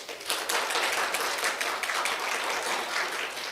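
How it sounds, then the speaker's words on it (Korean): An audience at a Korean pansori performance applauds a staff member, a thick wash of many hands clapping at once, fairly loud and continuous, swelling slightly then holding steady. "우리 주임한테 박수 한번 주세요"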